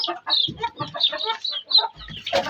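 Chickens and young chicks cluck and peep close by in a coop, giving a busy run of short overlapping calls with high cheeping chirps.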